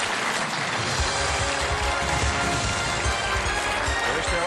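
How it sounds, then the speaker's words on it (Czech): A studio audience at a Czech quiz show applauds, a dense and fairly loud burst of steady clapping that carries on for several seconds with no speech over it. "ta vaše odvaha si zaslouží potlesk"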